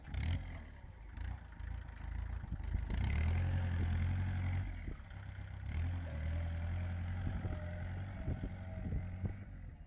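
A small cabbed mini tractor pulling a two-body plough runs steadily nearby, a low throbbing engine drone that swells and eases with load, with occasional clanks and clatter over it.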